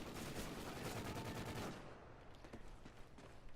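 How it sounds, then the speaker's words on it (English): Light machine gun in a multiplayer shooter video game, firing a rapid sustained burst that ends abruptly, followed by a few scattered distant shots. "Let's see if we can kill him with my LMG."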